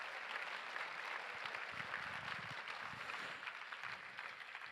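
Luncheon audience at a gun responsibility fundraiser applauding donors, a continuous spread of clapping from a roomful of people at moderate distance, fairly even and fading a little later on.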